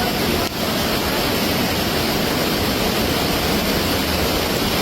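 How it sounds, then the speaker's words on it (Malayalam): Monsoon rain and rushing floodwater from a flash flood roar in a loud, unbroken wash of noise, with no voices. "അപ്പൊ മഴയും വെള്ളത്തിന്റെ ശബ്ദമൊക്കെ ആയതുകൊണ്ട് നമ്മളെ വോയിസ് ഒന്നും അധികം ക്ലിയർ ആയിട്ടുണ്ടാവില്ല"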